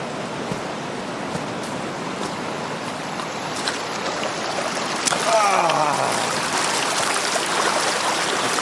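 High, muddy river water flowing steadily in winter, a continuous broadband rush heard alone with no talk, growing slightly fuller partway through.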